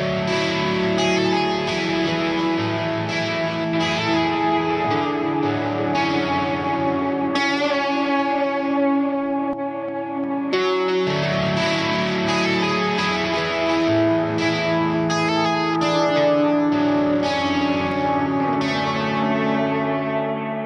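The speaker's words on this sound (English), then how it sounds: "Let's check out a clip of Echo Boy on guitars, and I'll flip through a few of the styles" Electric guitar played through a Soundtoys EchoBoy delay plugin, cycling through several echo styles, with repeating notes and chords trailing off in washy, distorted echoes and reverb, continuous and loud.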